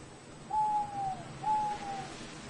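A tawny owl gives two clear, drawn-out hoots in a row, well separated and fairly close, over a quiet woodland background.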